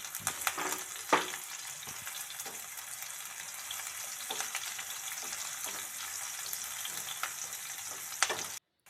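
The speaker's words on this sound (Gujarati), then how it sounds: "લસણને થોડું લાલ થવા દેવાનું ડુંગળી એડ કરીશું ડુંગળીને પણ આપણે થોડી લાલ થવા દઈશું" Garlic and onion fry in a pan for kantola shaak, a steady close sizzle with occasional stirring clicks and scrapes of a utensil, no talking.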